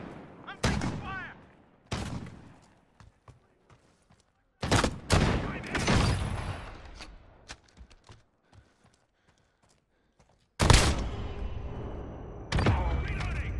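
Gunfire in a Modern Warfare 2v2 match: sharp bursts of automatic shots and loud cracks arrive in several clusters separated by quieter gaps, close and punchy, with occasional faint clicks between.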